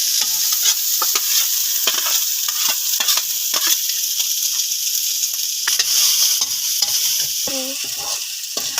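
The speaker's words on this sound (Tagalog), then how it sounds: "lagyan natin yung ating luncheon meat" Luncheon meat and onion frying in a pan, with a constant loud sizzle and repeated scraping strokes of a spoon or spatula stirring through it.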